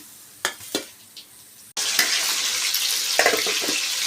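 Food frying in hot oil after a fresh batch goes in: a few soft taps and clinks, then a sudden loud, steady sizzle that fills the rest, close by with no talking.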